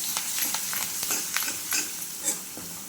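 Curry leaves, salt and turmeric sizzle in hot oil, a steady close crackling hiss with small sputtering pops and light stirring scrapes throughout.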